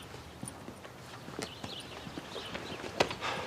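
Horse hooves clip-clop at an unhurried walking pace in an outdoor village setting, a steady run of light knocks fairly close by under a constant background hiss, with no talk.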